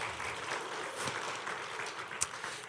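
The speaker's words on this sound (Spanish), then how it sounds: "Den un aplauso a los que fueron rápidos para eso" Church congregation applauding during a sermon, a steady, fairly faint wash of clapping across the whole stretch with one sharper clap near the end.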